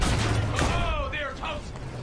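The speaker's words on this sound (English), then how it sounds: "the little tank that's shooting at me" Tank cannon fire and gunfire in the World War I shooter Battlefield 1, with booms and a dense battle din running steadily through a short stretch, heavy low rumble underneath and a voice talking over it.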